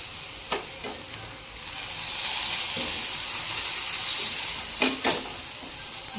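Batter hisses and sizzles on a hot griddle, the crackle swelling to a steady roar, with a few sharp knocks from utensils.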